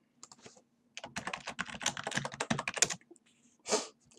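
A quick burst of keystrokes on a computer keyboard while a sudo password is entered in a terminal, closing with one separate key press, close and fairly quiet.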